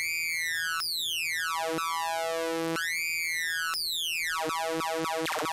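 A synthesizer tone from Massive sweeps repeatedly in bright rising and falling chirps, its pitch bent by performer modulation in a rhythmic, looping pattern with sharp resets, loud and alone.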